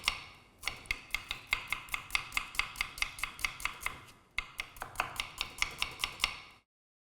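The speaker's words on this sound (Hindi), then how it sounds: "और अब प्याज स्लाइस कर लेते हैं।" Rapid, regular knife strokes slicing onions on a cutting board for Moradabadi chicken biryani. The crisp chops come close and steady in two bursts, with a short pause between them and no talk.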